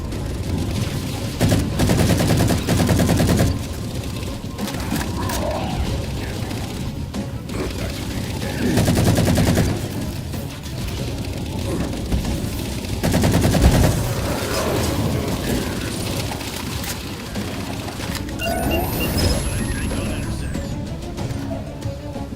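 Railgun blasts and gunfire in the video game Halo 4: repeated bursts of rapid shots with heavy booming discharges over an ongoing battle din, loud and close, with voices talking at times.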